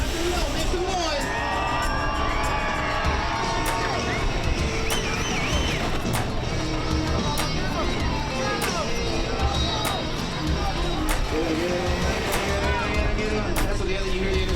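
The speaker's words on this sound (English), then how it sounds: "Let these drivers know you're out there, crowd. Let them know, make some noise." A dense crowd cheers and whoops at a motorsport car race, a continuous loud roar with scattered shouts and children's yells, voices mixed throughout.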